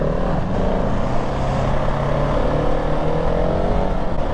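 Husqvarna 701 motorcycle braking hard into bends on twisty roads. A steady, loud, close engine drone with shifting pitch runs throughout, with no talk over it.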